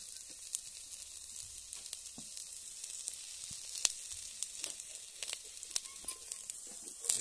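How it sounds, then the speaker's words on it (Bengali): Panch phoron spices fry in a little oil in a kadai beside aubergine for a tangy brinjal-and-prawn dish, giving a steady, soft crackling sizzle with scattered sharp pops throughout. "এক সাইডে 5 ফোড়ন দিয়ে একটু তেল দিয়ে ভেজে নিচ্ছি"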